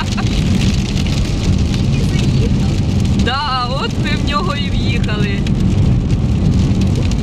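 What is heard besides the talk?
rain falling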